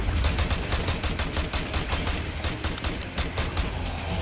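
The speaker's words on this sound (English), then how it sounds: "Jesus Christ, taking a lot of bullets" Rapid gunfire in a video game, a dense, continuous stream of sharp shots in quick rhythm, loud and close throughout, with no one talking.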